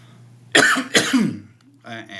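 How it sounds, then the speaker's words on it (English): Two harsh, explosive coughs from a person close by, followed by a short throat-clearing rasp and then a faint trailing breath in a quiet room. "I'm sorry for the coughing"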